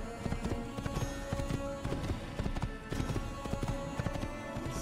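Steady clip-clop of horse hooves trotting in Assassin's Creed, close and continuous, with a busy clattering rhythm and no talking.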